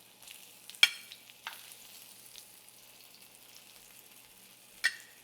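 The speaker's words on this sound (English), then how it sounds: "take a pair of tongs and set your mozzarella sticks in there and hear them sizzle" Mozzarella sticks dropped with tongs into hot frying oil, giving a faint steady sizzle with a few sharp crackling bursts as pieces go in, quiet and alone.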